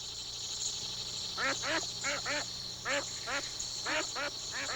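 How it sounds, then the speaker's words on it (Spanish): Canadian ducks quack repeatedly on Xochimilco lake in Mexico, a steady series of nasal calls in short clustered pairs, fairly near and clear over a constant background hum. "como estos patos canadienses que, escapando del frío invernal, encuentran refugio y alimento en las aguas"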